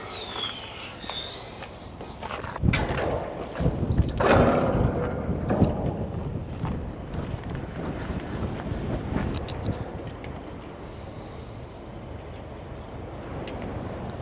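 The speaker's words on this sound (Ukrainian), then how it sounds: "Вітер сильний дує." Strong wind buffets the microphone in loud rumbling gusts, with heavy blasts early on and a steady roar continuing.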